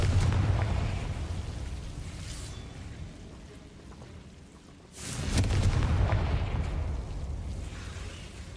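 Confringo blasting spell explosions in Hogwarts Legacy, a loud booming burst that rumbles and fades over several seconds, followed by a second heavy blast with a crackling tail.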